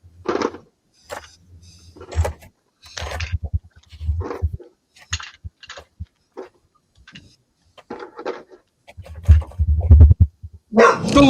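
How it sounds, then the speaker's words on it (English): A dog in a house barks in short scattered bursts, some close and loud, others softer, with quiet pauses between them and a louder cluster near the end. "Oh, that was a dog, not a bugger."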